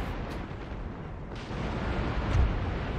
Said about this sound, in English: Wow! There's an explosion. That's one ship down.